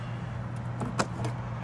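The magnetic escape door panel on a 2024 Newmar Ventana 3512 RV comes loose with a brief soft clunk and a couple of light clicks, set against a steady low hum.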